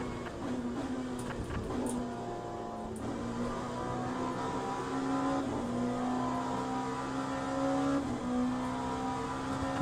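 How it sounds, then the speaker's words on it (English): A race car in the Le Mans Ultimate sim racing game holds a steady engine drone as it upshifts and keeps gaining speed during a rolling start, with a few brief clicks over the continuous tone. "The car is just getting faster and faster"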